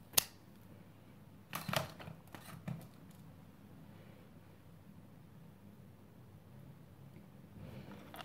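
Scissors cut crochet yarn with a few quiet, crisp snips and clicks early on, followed by a stretch of near silence.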